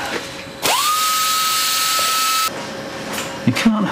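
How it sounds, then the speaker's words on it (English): A surgical drill bores into a patient's skull behind the ear, a steady high whine running for about two seconds before cutting off, followed by faint clinks and rustles. "Shave behind his ear so we can drill some holes in his head"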